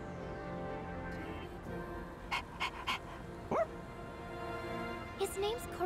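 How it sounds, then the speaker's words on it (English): A dog in the video game Persona 3 Reload gives a few short, soft barks and whimpers, spaced out over a quiet background, with talking around them. "Oh, this dog still goes on walks all by himself?"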